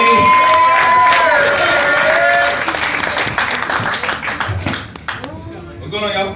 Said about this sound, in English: You guys make a lot of noise right now for Andy Fez, baby.